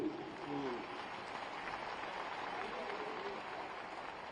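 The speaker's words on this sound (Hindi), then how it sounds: "तालियां बहुत बजाइए" Dense, steady applause from an audience at a Hindi poetry gathering in Raipur, a continuous wash of many hands clapping at moderate level, with a voice heard briefly at the start.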